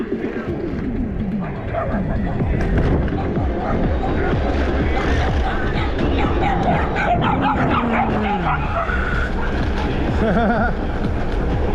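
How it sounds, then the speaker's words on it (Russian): Several dogs bark and yip steadily while chasing, mid-distance, over a constant loud rumble of travel and road noise in a Crimean village, with birds chirping faintly and occasional voices. "Собаки, гонщики хотели меня догнать, но не получилось."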